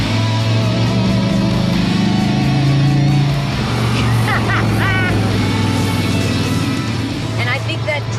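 De Tomaso Pantera's combustion engine while driving, a loud steady low rumble with a shifting pitch as it pulls, heard from inside the car with a voice talking over it.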